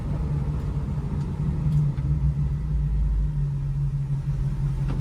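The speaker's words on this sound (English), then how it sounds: "I'm going to give you guys a quick brake test really quick to show you guys how good these brakes actually are" A 1965 Ford Mustang during a quick brake test, its engine holding a steady low rumble from inside the car, with no clear squeal or sharp stop.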